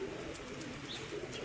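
Janssen-bloodline pigeons coo softly and continuously in a coop, a low murmuring layer that runs throughout without any speech.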